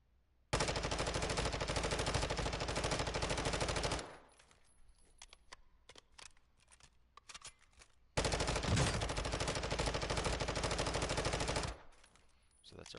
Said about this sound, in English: I'm firing in full auto.